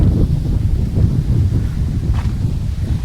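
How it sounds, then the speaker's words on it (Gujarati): Steady wind rushing and buffeting against the microphone, a continuous low roar with no voices. "ટાટક ટાટક પવન મસ્ત આવે છે."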